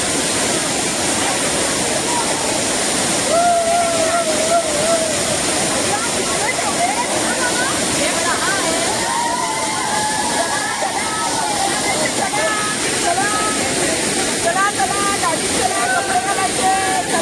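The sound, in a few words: waterfall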